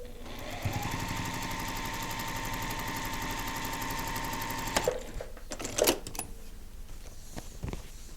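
Sewing machine stitching a paper-pieced quilt block, a steady fast mechanical whir and rattle running for several seconds, then stopping, followed by a few handling clicks and bumps.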